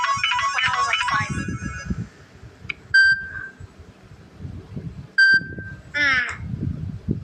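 A Samsung Galaxy A14 phone plays a short melodic ringtone of bright chiming tones and two beeps, separated by quiet stretches where a person speaks softly.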